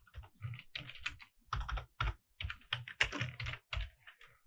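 Keys clatter on a computer keyboard as code is typed, quick close clusters of clicks in an irregular rhythm with short gaps between words, with no talk.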